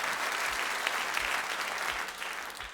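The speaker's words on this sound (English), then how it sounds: "Why isn't my applause working?" Video game applause sound effect from Silent Hill: Shattered Memories: steady crowd clapping, a dense wash that holds at an even level for a few seconds before easing slightly at the end.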